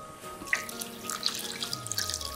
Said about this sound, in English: you pour in some water